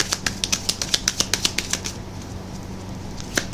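A deck of tarot cards shuffled by hand gives a quick run of crisp riffling flicks near the microphone for about two seconds, then a pause and a couple more snaps, with no voices.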